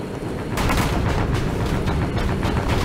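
Gunshots in the Stormworks video game on an oil tanker, heavy rapid booming fire forming a loud continuous barrage without pauses.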